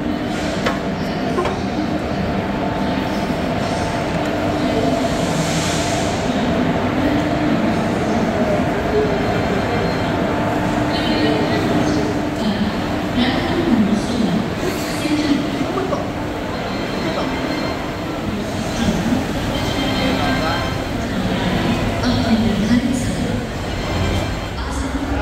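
Train noise at Delhi railway station, styled like an airport: a steady loud rumble of rail cars runs throughout, with faint wheel squeal and some indistinct voices mixed in.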